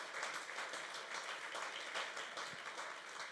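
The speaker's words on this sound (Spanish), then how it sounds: "Denle un fuerte aplauso al Señor." A church congregation applauds during a pastor's service, sustained dense clapping at a steady, moderate level throughout, with no voices over it.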